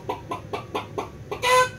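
A man imitates a chicken with a run of six rhythmic, evenly spaced clucks that end in a louder, drawn-out squawk, heard close and alone.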